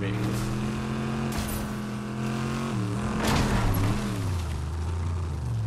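Engine of a car driven in a multiplayer video game, a steady loud drone with shifting pitch as it revs and changes gear, with voices talking over it.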